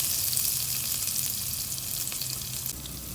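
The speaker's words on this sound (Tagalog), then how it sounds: "ibisan natin yung bawang at sibuyas" Garlic and onion sauté in a pan for pork sinigang, a steady close sizzle and crackle of frying with occasional stirring.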